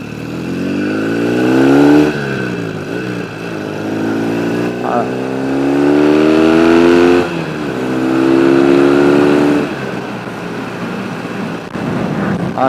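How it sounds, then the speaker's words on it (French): A 1974 Norton Commando 850 motorcycle engine revving hard several times, its pitch climbing and dropping between bursts, loud and close. "Tout le plaisir de la Norton Commando, on vient presque de l'entendre en quelques secondes."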